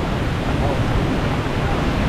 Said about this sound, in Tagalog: Lumakas na naman mga kabungot ang ulan at saka hangin.